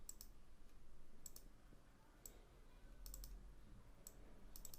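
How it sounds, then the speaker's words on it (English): Mouse clicks on a computer while working on a PDF across two screens, sharp light ticks in quick pairs and small clusters spread over a few seconds, close and faint above a steady low room hum. "I can simply double click"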